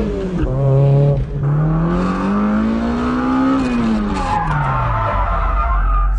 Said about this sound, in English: I'm pulling the e-brake too long, letting the car slide too much.